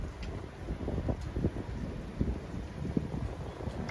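A breeze blows across the outdoor dining area of a waterside Thai-Filipino restaurant, a low, gusting rumble of wind buffeting close against the microphone with faint background rustles.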